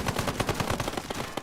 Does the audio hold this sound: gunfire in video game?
yes